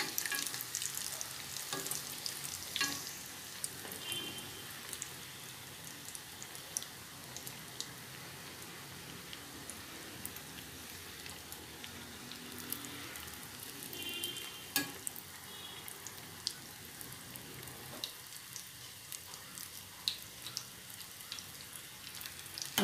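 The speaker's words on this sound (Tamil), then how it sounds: "ஓகே, நாங்கள் இப்போ நல்லா பொரிஞ்சிட்டு நாங்கள் வெளியே எடுப்போம்." Fish cutlets frying in hot oil, three or four at a time, turning golden: a steady close sizzle and crackle runs throughout with occasional sharper pops, and no one talks.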